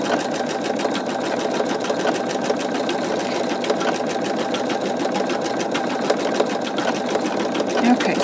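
A home embroidery machine stitches a skull design, a rapid, even mechanical rattling of the needle repeating steadily and close throughout, with no pauses.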